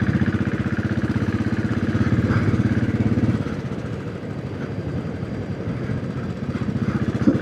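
A Royal Enfield Classic 500 EFI motorcycle cruises at about 50 on a back road, its steady thumping single-cylinder engine and wind rumble continuous throughout, slightly easing midway.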